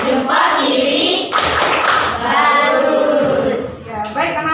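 Schoolchildren in an Indonesian classroom clap and chant together in a thumb-clap class routine, with rhythmic hand claps and thumps mixed with loud, close group voices.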